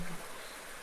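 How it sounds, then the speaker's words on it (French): Steady broadband rushing of flowing water, continuous and even, like a river running close by with no other sounds. "Vous laissez faire votre corps avec le son de cette rivière."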